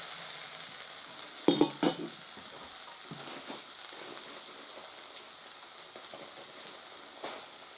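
Noodles tossed into stir-fried vegetables in a pan for natto yakisoba over a low flame, a steady soft sizzle with a couple of sharp clanks and light stirring scrapes.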